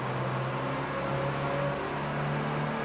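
A city hatchback race-project car engine held at full throttle, a steady droning high rev with a constant whining tone, close and continuous with no talk.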